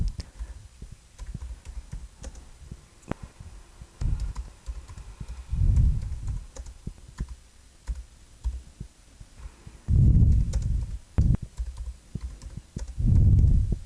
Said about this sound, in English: So I can type in my narrative here